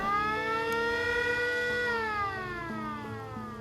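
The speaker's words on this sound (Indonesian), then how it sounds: "membuat Arduino tersebut mengirim output kepada sirine dan membunyikan sirine tersebut" An Arduino-triggered flood warning siren wails in a sustained steady tone, then its pitch slides downward toward the end.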